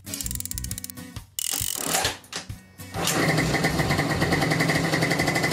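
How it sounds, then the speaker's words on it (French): A small 50cc scooter engine fitted with a Polini kit, being broken in, revs and idles with a rapid mechanical rattle, a few throttle blips, then settles into a steady, loud, buzzing run. "pendant que le moteur est en train de tourner"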